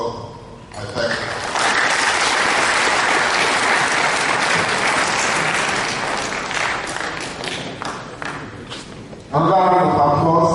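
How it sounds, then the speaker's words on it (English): An audience applauds at the opening of a workshop on financial access to healthcare for the poor in Nigeria. The clapping is loud, dense and steady for about nine seconds, then fades as a voice rises over it at the end. "Another round of applause for the excellency, the President of the State, Barrister Victor Kopa."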